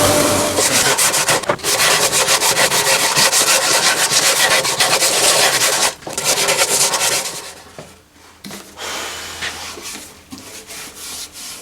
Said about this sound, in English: I'm going to sand the back of the neck.